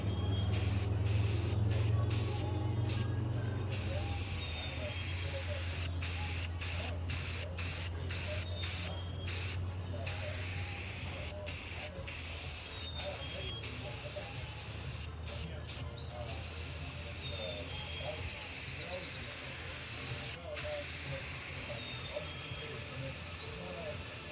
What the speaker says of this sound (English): I got some primer filler this time. We're going to try that on this particle board and see what that does for us.